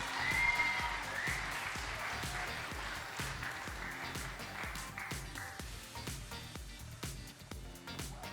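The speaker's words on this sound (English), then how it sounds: "Let's give them a round of applause as they make their way to the stage" Audience applause at a national grand final event as teams walk to the stage, steady broad clapping with some scattered cheering lasting throughout.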